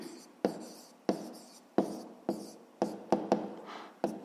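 A pen writing numbers on paper while working a fifth-grade math exercise about lengths of rope: about eight close, crisp strokes with sharp starts that fade quickly, coming at an uneven pace with no voice over them.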